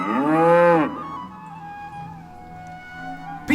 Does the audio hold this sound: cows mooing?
yes